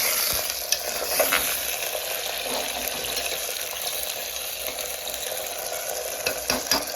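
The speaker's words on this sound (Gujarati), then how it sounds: "આપણે વટાણા નાખી દીધા, મિક્સ કરી નાખીએ." Continuous sizzling of green peas frying in oil, with occasional scraping stirs and small clatters, close up and without speech.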